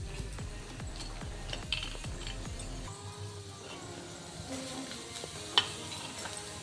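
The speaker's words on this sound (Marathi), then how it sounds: "तो कांदा सुद्धा आपण तव्यावरती भाजून घेऊया" Onion roasting on a flat iron griddle for a spicy brinjal dish, a quiet continuous sizzle with scraping and stirring scrapes, one sharp tap near the end.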